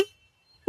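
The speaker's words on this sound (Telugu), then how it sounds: "హార్న్ యొక్క లౌడ్నెస్ అనేది ఫస్ట్ ఇంప్రెషన్ లో లౌడ్ గానే అయితే ఉంది." Horn of a 2026 Bajaj Dominar 250 motorcycle, sounded in two brief toots separated by a short silence, loud and close.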